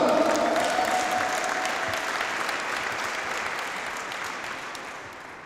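A crowd applauds a player at an amateur football match of KS Powiślak Końskowola, with sustained clapping that starts loudest and slowly tapers, mixed with a faint announcer's voice at the beginning.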